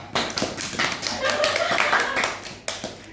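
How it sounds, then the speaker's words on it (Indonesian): Classroom applause in an Indonesian high school history lesson, a handful of scattered, uneven claps close by with some light tapping and a bit of background chatter. "Tepuk tangan bagi kita semua."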